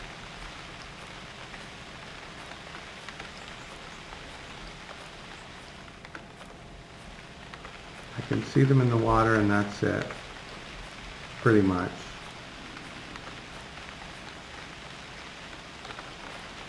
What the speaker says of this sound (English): it's raining and I can't see F all